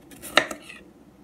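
A knife chops potatoes into slices on a board, a few quick crisp cuts bunched within half a second, with one sharper knock against the board, close and clear in a quiet kitchen.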